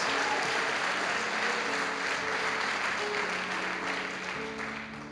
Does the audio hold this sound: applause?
yes